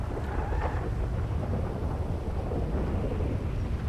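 Steady rain and rumbling thunder in rainy Los Santos in GTA 5 form a dense, continuous wash of noise at moderate level, with no talk.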